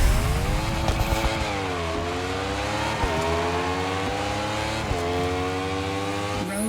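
A KTM motorbike's engine revs in the racing game The Crew Motorfest, a loud continuous whine climbing and dropping in pitch through several gear shifts, with no voices.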